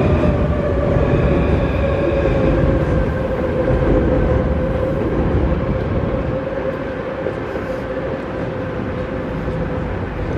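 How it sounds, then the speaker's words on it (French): Elevated Paris metro train crossing the Austerlitz viaduct over the Seine, a steady continuous rumble with a sustained tonal whine throughout, close and loud, no voices. "Le métro aérien."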